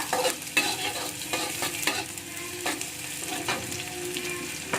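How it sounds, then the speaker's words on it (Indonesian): Shallots and garlic fry in a pan for a spicy mushroom and sweet soy dish, stirred with a steady, busy sizzle. A utensil scrapes and taps the pan several times, close and fairly loud, with no voices. "setelah bawang merahnya harum, kita masukkan bawang putih ya. Nah, kita aduk. Kita aduk rata."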